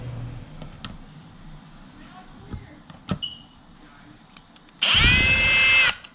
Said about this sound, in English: And then I just mark the holes with the drill or whatnot.